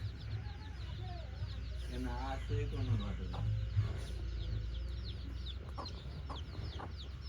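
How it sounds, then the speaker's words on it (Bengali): Painted chickens on a farm near the Jamuna River bank, several soft clucks and short calls at moderate distance, with a person speaking briefly over steady low background hum. "আরে এটা কালার এমন কেন মুরগিগুলার?"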